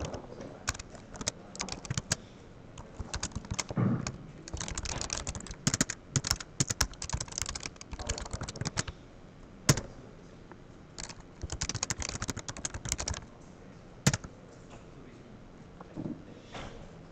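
Several people typing on computer keyboards together during a Git beginners' coding class, a dense continuous clatter of keystrokes with irregular bursts and pauses, close and fairly loud, with no talking.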